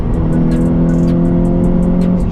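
A Honda Civic Type R FN2 with a Tegiwa exhaust and HKS intake runs loud and close, a steady engine drone holding through the brief burst, with faint chirps above it and no talking.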